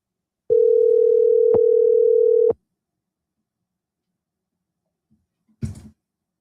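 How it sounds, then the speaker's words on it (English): A telephone call placed to a landlord about an apartment listing, with a steady single ring tone lasting about two seconds, then silence and a brief click as the line picks up; no talk. "I got to call them back. They got to answer the"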